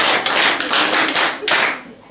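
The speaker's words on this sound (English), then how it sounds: "Clap for her." A group of students in a school chemistry practical claps together, a burst of dense, bright applause lasting about two seconds before tapering off.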